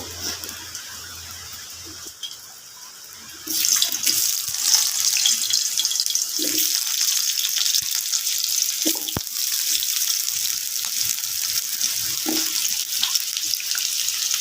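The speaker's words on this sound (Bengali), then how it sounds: "তেলের মধ্যে আমি আলুগুলো ভেজে নেব।" Potatoes fry in hot oil in a kadai for soybean dhokar dalna, a steady broadband sizzle rising sharply after a quieter start and running continuously up close, with occasional faint clinks and no talk.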